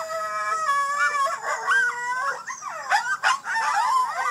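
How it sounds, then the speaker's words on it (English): A coyote howls alone and fairly close, rising and falling wavering tones broken by short yips and quavering cries across several seconds. "Let's take a minute to listen to a coyote howl."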